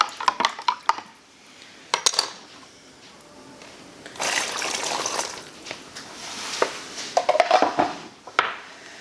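Butter and beef broth stirred in a pot: a utensil clinks and scrapes against the metal in bursts, with a swirling liquid sound in between, all close and fairly quiet.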